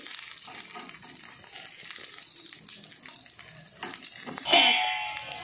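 Semolina rava appe sizzle and crackle steadily in an appe pan, a continuous close frying hiss that swells briefly into a louder burst near the end.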